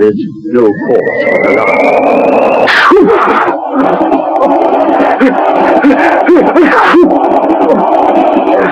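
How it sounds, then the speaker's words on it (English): Repeated theatrical sneezes in a 1970s radio drama, loud and close, coming in a long fitful bout over a steady background of voices and crowd-like murmur, with someone speaking briefly amid the outburst. "Most impressive display of sneezing I've witnessed in years."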